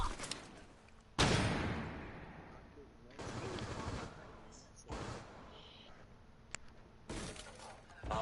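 Gunfire in the Rainbow Six Siege video game, with loud bursts of shots and sharp cracks in several separated clusters, layered with game effects and voices talking over the action.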